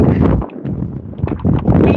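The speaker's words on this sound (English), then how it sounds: "Boy, it's windy." Gusty wind buffets a microphone outdoors near West Palm Beach, producing loud low rumbling bursts that rise and fall over two seconds, with no talking.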